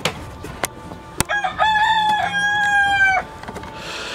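A Brakel chicken crows once, loud and close, in a long drawn-out call after a few short clucks and knocks, followed by quieter clucking.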